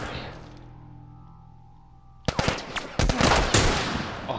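Rifle fire in The Last of Us Remastered: after a quiet, tense ambience, several loud, sharp shots ring out close by in quick bursts, with a few separated cracks and reverberant booms.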